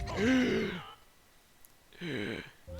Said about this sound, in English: I like that gasping sound every time Electric gets an item.